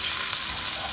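Garlic paste and white rice sautéing in a pan for vegetable pulao, a steady, close, dense sizzle that barely changes over one brief second.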